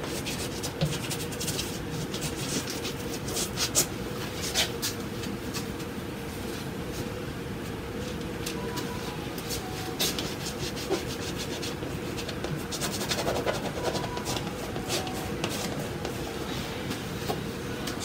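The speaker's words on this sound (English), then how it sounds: "I'm using my spatula again." A spatula drags acrylic paint across a canvas while layers are built up on an abstract painting, making a continuous close rasping scrape that runs steadily for the whole stretch, with no voices.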